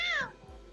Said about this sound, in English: She just meowed.